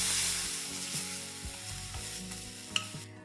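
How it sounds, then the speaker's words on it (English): Ginger paste sautéing in a hot pan after cumin seeds have spluttered, a steady soft sizzle under intermittent scraping stirs and light knocks of a spoon, fading slightly toward the end. "Saute the paste nicely"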